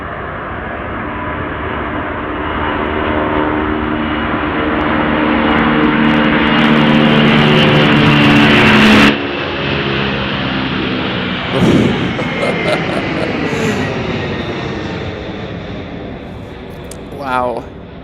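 A jet airliner at Chicago O'Hare roars past very loudly, building over several seconds until it overloads and clips the microphone, then fades with lingering engine rumble, with people talking faintly.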